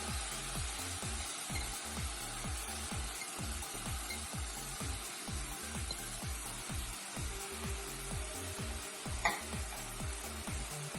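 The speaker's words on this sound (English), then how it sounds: "let's give it a stir first and cook it on medium heat now for 3 minutes" Toor dal for sambar being stirred and sizzling in a pot, a steady frying hiss with regular scraping strokes, close and continuous, and a brief clatter near the end.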